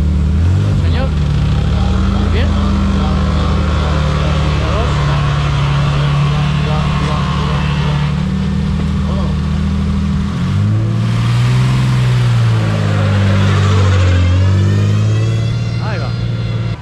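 A BMW rally car from Dago's team in the pre-1990 class at the 2022 Rally Costa Brava revs and pulls away, its loud engine note rising and falling steadily for most of the stretch, with people talking over it.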